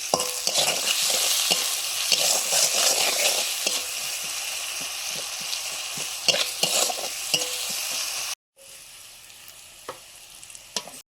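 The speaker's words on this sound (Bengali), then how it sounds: "পেঁয়াজ ভাজা হয়ে গেছে" Onions sizzle steadily in a hot pan, with a utensil scraping and stirring in irregular clacks; the frying continues after a brief cut.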